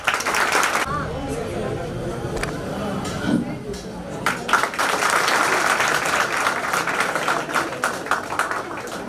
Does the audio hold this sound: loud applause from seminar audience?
yes